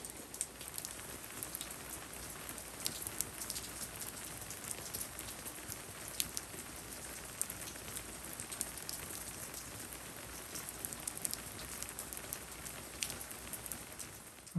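Rain falls steadily on a deck construction site in Hawaii, a dense, even patter of drops with scattered sharper drips, continuous and moderately faint with no voices.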